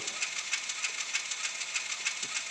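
Atlas N scale model locomotive with an ESU 58751 decoder, motor running on track at about half speed, giving a steady bright high-pitched whine with faint rhythmic pulsing and no talk.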